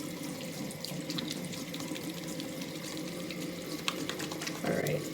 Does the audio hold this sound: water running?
yes